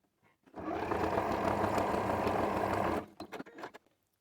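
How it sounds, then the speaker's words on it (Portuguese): A sewing machine stitching fabric along a seam margin runs in one steady, dense burst of about two and a half seconds, then stops, followed by a few soft handling knocks and rustles. "colocamos o tecido sequência e passamos a costura nessa margem"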